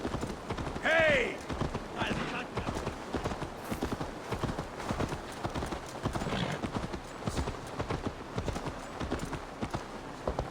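Horse hooves clip-clop in a steady walking rhythm through the whole stretch in Assassin's Creed Valhalla, moderately close, with a horse neighing early on and a voice speaking over the hoofbeats.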